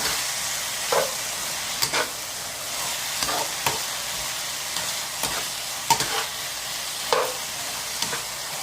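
Shredded potatoes stir-fried in a wok, a continuous close hiss of frying punctuated by regular scraping and tossing strokes roughly every second, with no one speaking.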